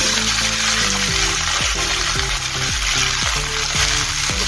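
Guar beans sizzle and fry in hot oil in a pan, a loud continuous crackling hiss close up, with a scraping stir repeating roughly every half second, and no one speaking.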